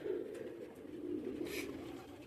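Pigeons cooing softly in a low, continuous murmur that carries through the whole stretch, with a brief higher rustle or chirp near the end and no voices.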